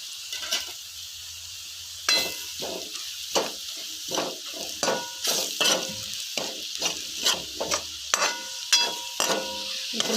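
Onions and spices including Kashmiri chili, salt, coriander-cumin and turmeric sizzle in a pan while a spoon stirs and scrapes them, with steady crackling frying broken by repeated sharp scraping strokes, close up and without talk.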